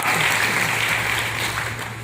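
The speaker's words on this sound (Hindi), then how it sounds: "एक बड़े big round of applause to mister Agarwal ji" An audience at a DXN distributor training event in India applauds Mr. Agarwal in a loud, sustained round of clapping.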